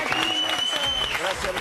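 Audience applause at a Chilean TV variety show taping, a short steady burst of clapping that fills the room while a voice speaks over it.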